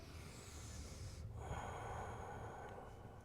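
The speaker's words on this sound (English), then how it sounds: "Let's get a few deep breaths here." A single deep breath during a beginner stretch and relax class, a soft sharp inhale followed by a longer airy exhale, close and quiet with no talk.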